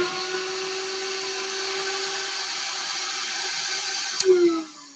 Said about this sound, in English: vacuum back on.